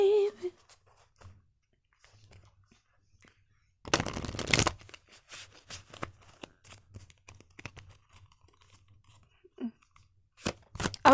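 Tarot cards are riffled in a quick burst, followed by scattered soft flicks and shuffles, then more crisp riffles at the end; otherwise quiet.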